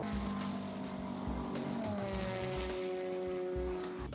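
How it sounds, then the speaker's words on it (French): Race cars lapping the Spa-Francorchamps circuit in Belgium during a six-hour endurance race, a steady roar of several engines with shifting tones as cars pass, continuous and fairly loud with a crowd-like wash underneath. "Beaucoup de voitures différentes sur la piste dit aussi beaucoup de types et de moyens de propulsion différentes par voiture"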